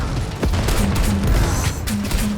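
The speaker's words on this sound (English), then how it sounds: "That sound, the juicy explosions and domination of the enemy," Grenade launcher explosions in Necromunda: Hired Gun, a run of loud booming blasts with sharp bursts, one near the start and more clustered toward the end over a rumbling game soundscape.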